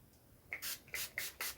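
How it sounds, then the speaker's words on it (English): Setting spray (Magic brand) misted from a pump bottle in several short, bright hissing bursts, four quick sprays close to the microphone with brief pauses between, no talking. "Before we highlight, that's Magic's setting spray."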